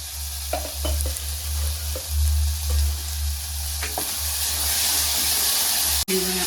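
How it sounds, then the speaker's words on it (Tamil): Tomatoes fry in a pan for green gram dal gravy, with a continuous close sizzle broken by repeated stirring scrapes and a sharp click near the end. "தக்காளி நல்லா வதங்கட்டுங்க."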